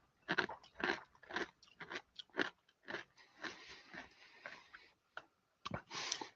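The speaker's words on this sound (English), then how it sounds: "Okay, it's really good crunch." Smoked nacho cheese Doritos corn sticks from Japan crunch loudly and close up in a series of sharp, irregular bites and chews, with short pauses between, and no talking.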